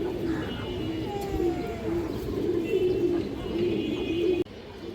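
Silver pigeons coo steadily in a loft, a continuous low rolling coo from several birds close by, with a brief sharp chirp and no talking.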